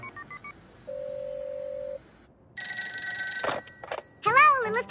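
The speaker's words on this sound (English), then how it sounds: "Sorry, I'm not used to answering the phones here." Telephone ringing at the front desk of a cartoon hotel: short beeps, a held electronic tone, then loud bright trilling rings, with a voice chiming in at the end.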